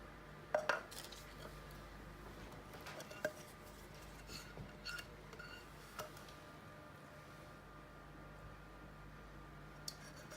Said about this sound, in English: I'm just gonna scrape out the rest of the pan so that I get all of it